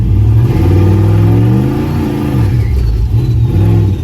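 A turbocharged LS-swapped Caravan roars as its engine is revved against the trans brake, a loud, steady, close drone with the pitch rising and falling in waves.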